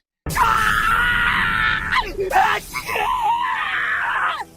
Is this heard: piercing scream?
yes